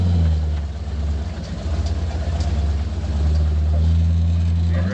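A heavy engine running at about 900 RPM under load during a recovery job gives a steady, loud, low-pitched glugging drone that pulses slightly and continues throughout without pause.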